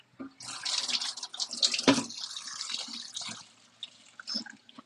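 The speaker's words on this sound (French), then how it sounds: "il faut juste que je remette de l'eau là-dedans" Tap water running to refill a container, splashing and fluctuating as the flow hits the vessel, close by with a brief louder gush midway.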